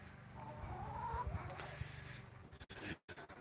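Chickens cluck and murmur close by indoors, a few low, intermittent fowl calls mixed with handling noise and thumps, fairly quiet, with brief clattering near the end.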